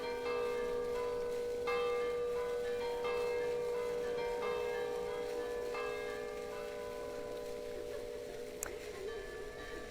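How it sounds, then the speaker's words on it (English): Church bells of Saint-Sernin Basilica in Toulouse ring steadily, a sustained, resonant peal with layered overlapping tones that carries throughout without pause, heard outdoors with no talking. "I'm letting the bells do their thing."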